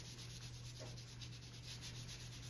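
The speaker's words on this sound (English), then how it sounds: "let's just put some on a wipe and rub it onto the back of this" A wipe rubbed steadily across the back of a craft tray, giving a soft, continuous scrubbing hiss at low level with no talking, over a constant background hum.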